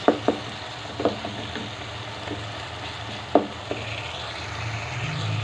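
Garlic frying gently in a pan for aloo methi gives a low, steady sizzle, broken by a few sharp knocks of a spoon against the pan.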